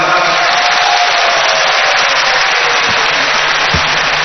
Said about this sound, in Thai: ขอเสียงปรบมือดรกิติศักดิ์อีกสักครั้งครับ